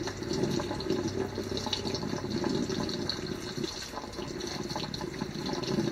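Water gushes steadily from a kitchen tap left running while waiting for it to turn hot, a constant, even splashing rush with no talk over it.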